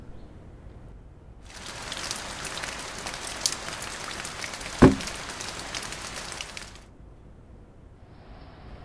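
Steady rain falls for about five seconds as a dense, even hiss with one louder thud in the middle, framed by quieter moments before and after.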